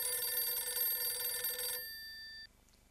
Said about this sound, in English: You can redirect calls to their VoIP phone or their mobile phone.